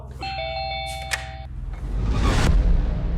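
An electronic doorbell chimes a short melodic tune, clear and loud, followed by a rumbling low noise as it fades.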